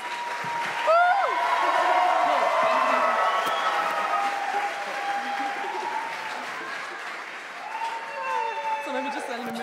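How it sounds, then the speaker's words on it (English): A closing-ceremony audience at a youth conference claps steadily and loudly for several seconds, with whoops and cheers rising over the applause. "Some more applause! More applause!"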